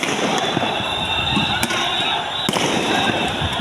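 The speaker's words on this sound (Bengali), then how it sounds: "টিয়ার গ্যাস ফুটতে আছে" Tear gas shells fired by police during street unrest, with two sharp bursts standing out over a loud, continuous din of crowd noise and hiss.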